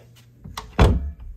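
Bathroom door being shut during cleaning, a quick shuffle followed by a solid, close thud as it closes, then a brief soft knock.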